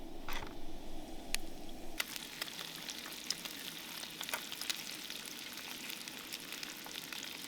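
Bacon sizzles and crackles steadily in a pan at a campsite, a soft continuous frying hiss with scattered sharp pops throughout.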